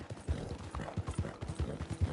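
Horse hooves clip-clopping in Red Dead Redemption 2, a steady run of soft, close thuds in an even walking rhythm that carries on without pause.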